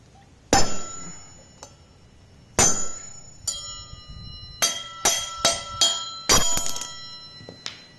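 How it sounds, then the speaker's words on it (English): Hammer blows strike a socket extension to drive front wheel bearings out of an ATV hub, sharp metallic clanks ringing out, first spaced apart and then in a quicker run of several strikes. "Just hammer that extension."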